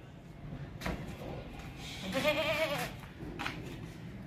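A black-brown Qurbani goat at a livestock market bleats in a clear, wavering cry midway through, with fainter bleats and shuffling around it and a voice talking nearby.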